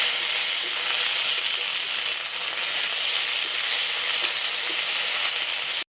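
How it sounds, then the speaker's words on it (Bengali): Ginger and dry spices, with salt added, splutter in hot oil, making a loud, continuous, close-up hissing sizzle that stays even from start to finish with no voices. "আদাটা দিলে ফাটে বলে লবণ দিয়ে দিচ্ছি।"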